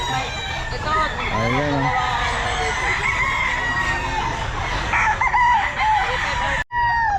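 Roosters crow repeatedly nearby among clucking fowl, loud and overlapping, while someone speaks briefly over the noise.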